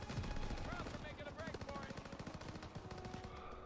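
Rapid rhythmic gunfire from a firefight in the Call of Duty WWII campaign, M1 Garand rifle shots among steady bursts that run loud through the whole stretch, with faint game voices underneath.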